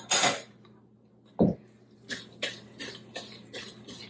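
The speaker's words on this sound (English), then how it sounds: "Stir really quickly." Stirring beaten eggs, cooked rice and cinnamon together for rice pudding, a series of quick, light scraping and tapping strokes against a bowl after a couple of isolated clinks, close and fairly quiet.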